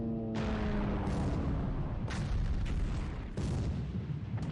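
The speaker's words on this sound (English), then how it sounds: "Ooh, ammo storage explosion." Ammo storage explosion on a ship in the naval war game War in the Pacific: a heavy rumbling boom erupts, followed by further deep blasts rolling one after another, loud and close.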